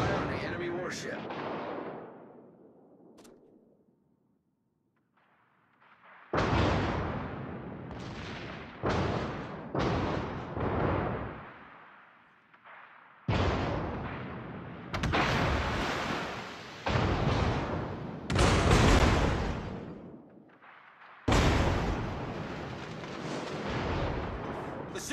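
Warship artillery in the World of Warships game booms in a series of heavy, loud salvos, spaced irregularly with rumbling decay between shots, after an opening blast and a quiet stretch.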